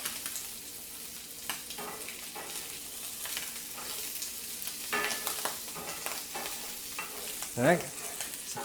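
Breakfast sausages frying in a cast iron pan give a loud, constant close sizzle with oil spattering and crackling throughout, plus occasional scrapes and taps from stirring, no voices.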